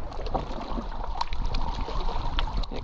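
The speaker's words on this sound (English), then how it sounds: "I love hearing the sounds of the water lapping against the limestone rocks" Water laps and gurgles against limestone rocks at a Great Lakes harbor in Tobermory, Ontario, a steady close wash of small splashes and trickles with faint distant clatter, no voices.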